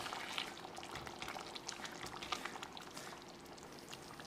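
Soft, steady bubbling and crackling of a pot of mutton curry simmering on the stove, with no voices.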